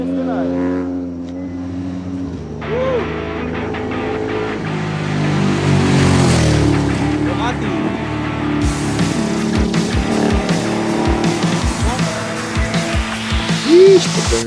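Racing motorcycles at a circuit race event speed past and brake hard, a continuous loud engine roar rising and falling with rapid pitch sweeps and gear changes, a sharp burst near the end.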